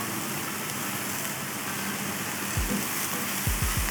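Diced beef for a beef and mushroom stew sears in a hot pan, giving a steady close sizzle with a few low thumps near the end.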